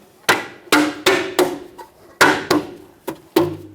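A hubcap is tapped into place on a Ford E-350 van wheel. Sharp, close knocks come in an uneven series of about eight, some louder than others, with no talking.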